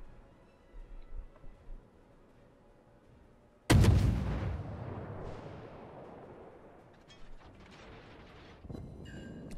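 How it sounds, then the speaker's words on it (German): A single heavy warship gun salvo of HE shells booms loudly in World of Warships naval gameplay, a sharp blast that rumbles and decays over several seconds against quiet background sound. "So, jetzt aufgrund des Winkels aktuell noch mit HE am Schießen."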